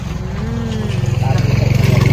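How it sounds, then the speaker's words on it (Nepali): A tractor engine runs outdoors close by, a low rhythmic chugging that grows steadier and louder, with a voice speaking faintly over it. "आजको त ट्र्याक्टर पो रहेछ"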